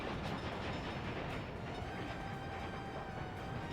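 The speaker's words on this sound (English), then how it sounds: "This is an old, venerable 31-year-old train," An old, 31-year-old train runs in the game Workers and Resources, a steady broadband rumble and rolling rail noise holding at even loudness throughout with no talk.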